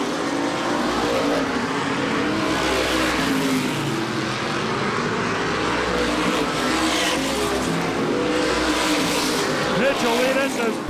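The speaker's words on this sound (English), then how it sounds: "Jarvis right on Dockenhausen as they battle for the number 3 spot" Modified race cars of the True Value Modified Racing Series roar around Star Speedway in 2005, a loud, continuous engine drone with rising and falling swells as the cars battle close together for position.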